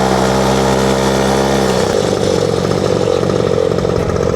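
A mini motorcycle engine runs loud and close, starting as a steady buzzing idle and then shifting into a rougher, revving drone that continues throughout.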